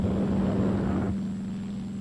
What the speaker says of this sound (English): Carrier-based helicopters hover nearby for quick rescue work in case of accident.